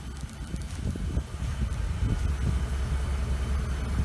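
A 2008 Ford Expedition idles with a low, quiet exhaust rumble, steady and close, under light wind-like background noise.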